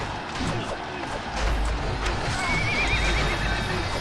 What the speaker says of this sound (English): Pull back the horses!